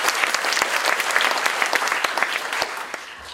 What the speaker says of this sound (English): let's give a big round of applause to our faculty presenters